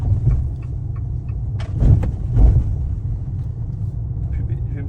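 Fiat 500 Abarth F595 driving at low speed, a steady low engine rumble with a few louder surges and bumps, while the driver talks over it from inside the cabin.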